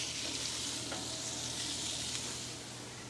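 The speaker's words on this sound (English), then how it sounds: "Now we're going to add in our butter." Butter hitting a hot pan beside crispy-skinned sea bass, producing a steady, dense, close sizzle that holds loud and even before easing slightly at the end, with no talk.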